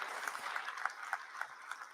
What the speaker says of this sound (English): A big round of applause for this wonderful launch.